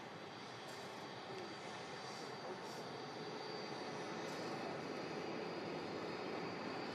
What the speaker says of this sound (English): And this Jet2 A330 is on the way out to Dalaman.